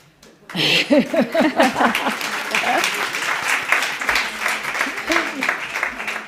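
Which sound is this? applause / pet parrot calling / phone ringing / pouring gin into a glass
applause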